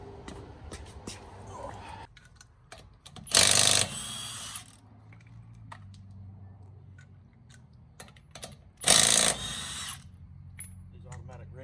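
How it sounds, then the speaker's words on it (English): An impact wrench buzzes in two short loud bursts while removing lug nuts from the wheels of a 1970 Torino, with quieter clinks and handling noises of tools and parts between the bursts. "These automatic wrenches are making me fat."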